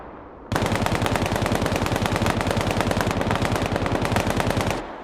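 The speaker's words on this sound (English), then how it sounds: "here's the sound of that same AKM on full auto from a closer range" A close, loud AKM assault rifle in a video game fires on full auto in one long unbroken burst of rapid, evenly spaced shots lasting several seconds.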